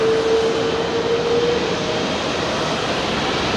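Rolls-Royce-powered airliner departing from runway 27R at London Heathrow, a steady loud broadband jet roar that holds evenly throughout, with a faint whine fading out partway through and no voices.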